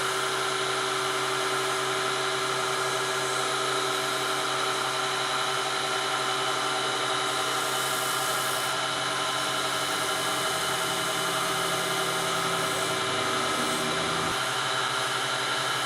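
A wood lathe spins a lidded box while a cut-up old t-shirt rubs wax onto the inside, giving a constant high whirring motor drone with a faint rubbing hiss, steady throughout and close.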